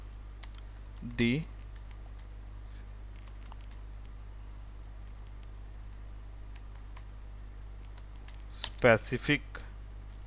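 Typing on a computer keyboard: faint, scattered light key taps running through a quiet room hum, with someone speaking briefly at the start and end.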